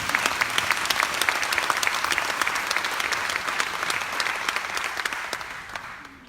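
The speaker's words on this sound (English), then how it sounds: "Give her a round of applause." Festival crowd applauding Jamaican poet Lorna Goodison, sustained full applause from many people at an even level throughout, tapering slightly at the close.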